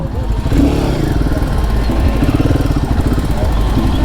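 Royal Enfield Himalayan 450 motorcycle running loud and close at a demo day, its single-cylinder engine thumping with a rapid, steady pulse throughout and swelling slightly as it pulls away.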